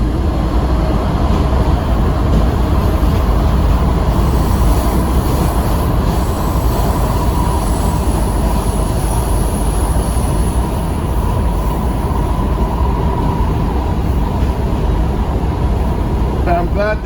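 A WMATA Metro 6000 Series train on the Orange Line rumbles steadily along the rails, a loud continuous roar of wheels and car noise with faint squeals, heard from inside the moving train.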